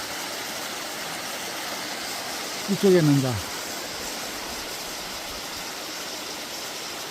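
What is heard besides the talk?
winter waterfall pouring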